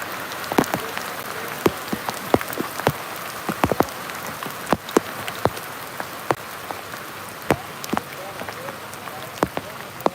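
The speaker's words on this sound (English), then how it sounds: "it looks like we're getting storms after storms, rain after rain" Rain falls steadily during a storm at a fishing spot in the Philippines, with many sharp drops tapping hard on a nearby surface in an irregular patter over a constant wash of rainfall.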